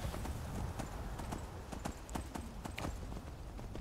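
Horse hooves clip-clop at a steady trot in the video game Skyrim, a quiet, even rhythm of soft thuds continuing throughout with no talk over them.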